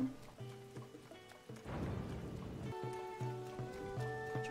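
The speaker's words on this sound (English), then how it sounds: "Oh, but it's raining." Rain falling in the video game Zelda: Tears of the Kingdom, a soft hiss of patter that swells midway under steady tonal game music, moderately quiet with no talking.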